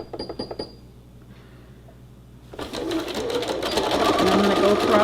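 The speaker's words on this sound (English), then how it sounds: "you go and you sew all the way around the complete square" Sewing machine stitching around a square of denim for a jean purse, starting after a short pause with a steady, loud, close whirring run that builds and continues to the end, over faint earlier taps.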